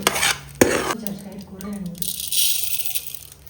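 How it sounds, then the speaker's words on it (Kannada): Mustard seeds and curry leaves sizzle and crackle in oil in a pan with a spoon scraping and stirring, a brief metallic clatter early on, and a steady hiss building toward the end. "ಸಾಸಿವೆ ಮೊದಲಿಗೆ ಹುರಿಬೇಕು ಸಾಸಿವೆ ಮತ್ತು ಕರಿಬೇವು"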